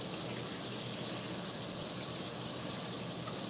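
Water runs continuously from a tap over dyed burgundy hair during a rinse, a steady close gushing hiss with no breaks.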